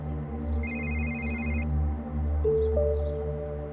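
A telephone rings indoors in a Turkish television drama scene, a short bright electronic ring tone sounding once for about a second over a steady low background hum, followed by a brief lower tone, with no speech.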